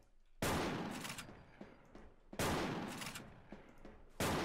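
Gunfire in a sniper battle in the online shooter Wolfteam: three loud, sharp rifle cracks spaced about two seconds apart, each with a ringing tail that fades before the next, and no one speaking.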